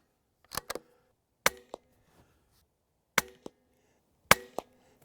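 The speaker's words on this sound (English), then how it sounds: "I'm shooting golf balls at about 40 yards" Suppressed .22 rimfire shots through a modular Rugged Oculus 22 silencer, fired at golf balls about 40 yards away: several sharp, short reports spaced apart, some paired with faint distant impacts, against near silence.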